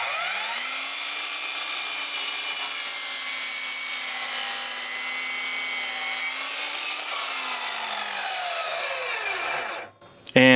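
A Hercules 20V brushless cordless sliding miter saw spins up and cuts through a standard pine 2x6, a loud steady whine for about nine seconds that drops in pitch as the blade winds down, close up.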